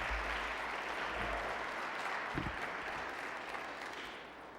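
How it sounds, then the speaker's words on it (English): A room audience at a lecture session claps in sustained, dense applause that holds steady, then slowly fades toward the end. "another round of applause"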